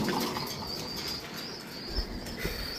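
Pigeons of the Lahori, Shiraji and Giribaz breeds, kept for sale, flap their wings and coo nearby. A few soft thumps and flutters rise briefly above a faint background hiss.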